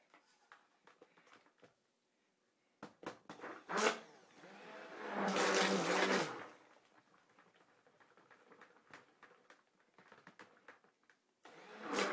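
Soap batter is whisked in a bowl, a loud buzzing burst lasting a couple of seconds, framed by scattered knocks and scraping before and after, with quiet gaps between.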